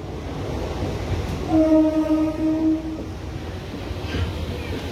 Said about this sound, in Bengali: দেখুন ধীরে ধীরে প্রবেশ করছে পুরুলিয়াতে